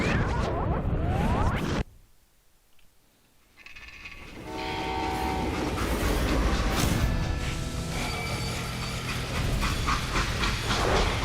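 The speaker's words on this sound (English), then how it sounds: "They hopped a freight train" A freight train from the game Call of Juarez Gunslinger rumbles along with a loud, continuous mechanical roar and rattling wheels, a brief quieter gap early on, then a steady heavy clatter with horn-like tones.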